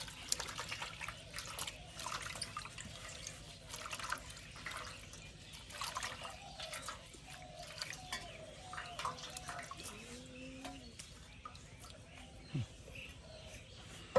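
Ivy gourd leaves are washed by hand in water, making soft trickles, dribbles and small splashes that continue unevenly at close range.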